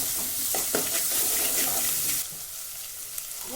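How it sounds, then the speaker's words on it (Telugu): Ginger garlic paste fries in a pan for a dry fish curry, a steady close sizzle with stirring scrapes that drops to a quieter simmer partway through, no talking. "హాఫ్ స్పూన్ అల్లం వెల్లుల్లి పేస్ట్ వేసి పచ్చివాసన పోయే వరకు ఫ్రై చేయాలి"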